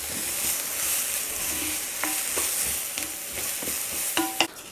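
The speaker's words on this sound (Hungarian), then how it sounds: "ezen a nagyon kellemes kis forró és zsíros tarhonyán pörgessük át a hagymát" Onion sizzles loudly in a pan with hot, fatty tarhonya pasta, a steady frying hiss broken by a few sharp clicks of a spoon stirring through it.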